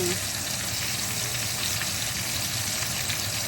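Steak frying in a hot pan gives a loud, dense, unbroken sizzle close up, with a faint voice barely audible beneath it.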